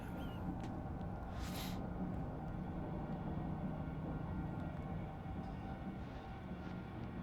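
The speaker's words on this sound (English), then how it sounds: "So I'm in some kind of train." Train interior ambience in the video game Chernobylite, a low steady rumbling drone with faint rattles and one brief hiss early on, continuous and muted with no speech.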